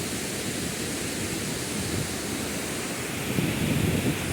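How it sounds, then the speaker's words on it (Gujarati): A steady, broad roar of water pouring over an old check dam about fifteen feet high rushes continuously, like a waterfall heard from nearby, with no voices. "આ ચેકડેમ કોઈ સામાન્ય ધોધથી પાછું પડે એવું નથી"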